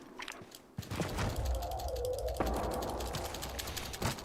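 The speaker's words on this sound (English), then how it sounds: "Don't you love the sound of my mechanical keyboard, guys?" Mechanical keyboard typing, a fast run of crisp clicky keystrokes at close range, continuous through the clip alongside faint game sound in the background.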